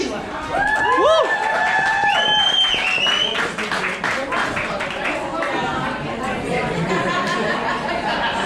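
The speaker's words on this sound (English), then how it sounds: "please give a round of applause for Angela" A crowd at a benefit event applauds and cheers for a performer, with loud whoops and shouts at the start giving way to steady clapping and lively chatter.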